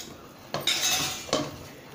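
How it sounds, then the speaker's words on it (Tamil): A spoon scrapes and clinks against a pan while stirring a roasted gram flour barfi mixture, two distinct metallic strokes close up with no talk. "கொஞ்ச நேரம் விட்டு இந்த மாதிரி கலந்து விட்டுக்கிட்டே இருங்க."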